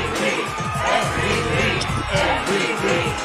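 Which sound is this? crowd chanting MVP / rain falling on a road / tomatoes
crowd chanting MVP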